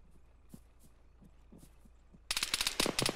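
Gunfire in the military game Arma erupts as a loud, dense burst of rapid shots toward the end, after a stretch of faint distant pops and low background rumble.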